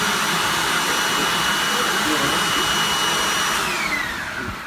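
A vacuum cleaner running close up while crumbs are sucked off someone's feet, a loud continuous whine that drops off slightly toward the end, with voices talking faintly underneath.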